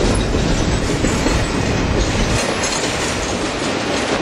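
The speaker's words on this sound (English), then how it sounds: "This is a triple crown train." A long triple crown freight train, with highway trailers riding on railroad wheels, rumbles steadily past at close range, a continuous loud roar of wheels and cars with a faint rhythmic clatter underneath.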